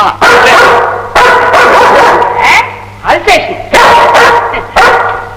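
A dog barks loudly and repeatedly in short bursts close by, while several people talk and call out over it.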